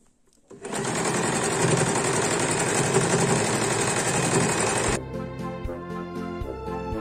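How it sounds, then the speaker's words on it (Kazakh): A sewing machine zigzag stitching fabric with a calico lining, running close and loud in one fast continuous burst of about four seconds, then stopping into quieter handling noises. "мен бұны зигзагпен тігіп өткенді жөн көрдім"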